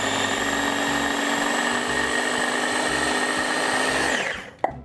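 Food processor chopping parsley and cilantro for chimichurri runs as a steady, loud whirring motor drone for about four seconds, then winds down with a final clunk.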